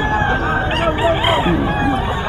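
A bull stag gamecock crows and clucks near a market stall, its calls rising and falling close by over a busy crowd with talking in the background.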